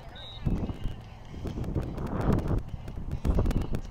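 Wind buffets the microphone outdoors during a match in uneven gusts, with scattered thumps, footsteps and rustle. People talk over the noise.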